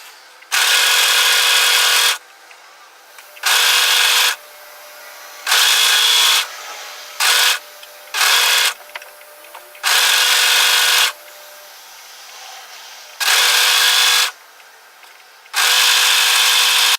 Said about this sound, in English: what I'm going to do is overlock these pieces together from one end to the other